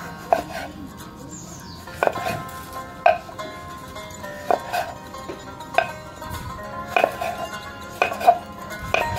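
Knife slicing fresh vegetables on a cutting board in a home kitchen, a series of irregular sharp taps at close range over faint background hum, with a few small clatters.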